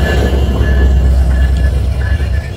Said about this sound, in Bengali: এখন ঢুকতে পারে গাইস আমাদের লোকোমোটিভ